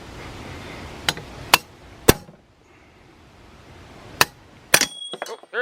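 Hammer whacks on a Leslie bronze back cap diffuser plate, five or so sharp metallic strikes spaced unevenly, the last ones followed by ringing and small clattering bounces, close and loud.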